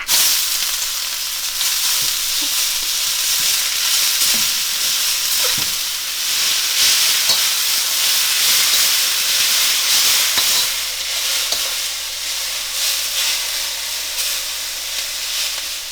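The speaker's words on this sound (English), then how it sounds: "it is the time for you to put the sliced potato" Sliced potatoes fry with garlic in a pan, giving a continuous loud, even sizzle and hiss that lasts throughout without any talking.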